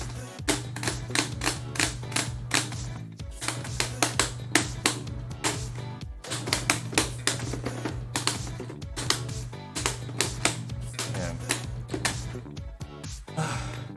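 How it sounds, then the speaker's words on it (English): Keyboard buttons clicked in quick, dense, uneven runs, with short pauses between bursts. The clatter is close and crisp over a low steady hum. "I'm sure you like the button ASMR"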